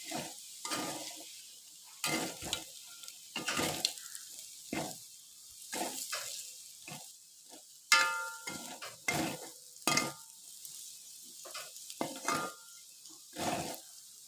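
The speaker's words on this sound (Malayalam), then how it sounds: "എല്ലാം കൂടെ നമ്മൾ മിക്സ് ചെയ്ത് നന്നായി മുറുകി വരുന്നവരെ നമ്മൾ ഇടയ്ക്ക് ഒന്ന് ഇളക്കി കൊടുക്കണം" A potato fry with chili and turmeric stirred in a pan, with repeated scraping strokes of the spoon in an uneven rhythm over a faint sizzle, loud and close.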